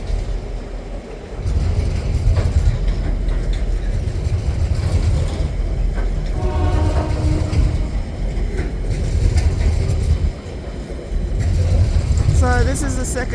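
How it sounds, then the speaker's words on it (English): Train passing through the small Tasmanian town of Deloraine on a fairly quiet track, a steady rumbling roll with a brief high squeal near the end, heard close by under people talking. "So this is the second train for the day."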